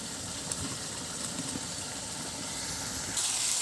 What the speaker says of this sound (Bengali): এখন ভালো করে মশলাটা কষিয়ে নেব।